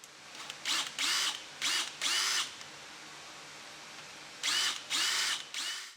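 An old hand drill whirs in several short bursts, close by, spinning up and stopping in quick pairs with pauses of quiet room tone between, while making a vise stop.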